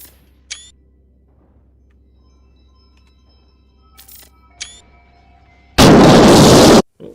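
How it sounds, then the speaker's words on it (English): A single loud explosive blast from drones fighting in No Man's Sky, a sudden broadband burst lasting about a second, preceded by a few faint pops and clicks over quiet game ambience. "Like explosions and stuff"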